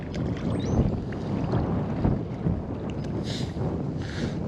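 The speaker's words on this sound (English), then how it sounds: "Strong wind." Strong wind buffeting a GoPro microphone while fishing from a boat, a constant loud rumbling roar with gusty swells and a few faint higher whooshes near the end, no talk.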